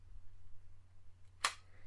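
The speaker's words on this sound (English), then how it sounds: "That will release the mirror to the lockup position." A Pentax 67 medium-format camera releases its mirror into lockup with a single sharp mechanical clack, close and crisp, against an otherwise quiet background with a faint low hum.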